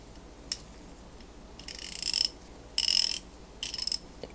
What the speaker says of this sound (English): Let me show you how it sounds when it was ratcheting.